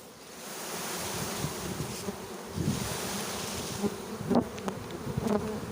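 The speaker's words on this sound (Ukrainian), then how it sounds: "Оце купа бджіл." A dense swarm of honey bees at an apiary makes a continuous buzzing hum, steady and fairly close, with a few brief clicks and rustles and no voices.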